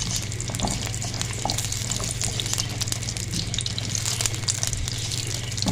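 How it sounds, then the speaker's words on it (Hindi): Green chillies fry in hot oil in a pan, giving a steady, close sizzling hiss that runs unbroken throughout, with a low hum underneath. "अब हम इस ऑयल में सबसे पहले मिर्चों को फ्राई करेंगे"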